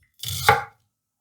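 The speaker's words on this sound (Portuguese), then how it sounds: "Meia cebola, cortar aqui no meio" A knife slicing through half an onion on a cutting board, a single close, crisp cut lasting about half a second, alone with no talking.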